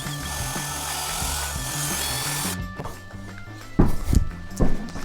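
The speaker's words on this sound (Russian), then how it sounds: "Сейчас я прикручу." A power tool whirs continuously as a fixture is screwed into place during an old house room renovation, then cuts off partway, leaving a few sharp knocks and handling clatter nearby.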